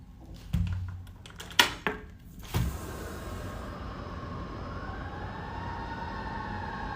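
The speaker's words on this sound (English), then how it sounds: "Let those sirens alert you to the fact that this is real." A few clunks and knocks, then a distant siren wails with a slowly rising tone over steady traffic rumble.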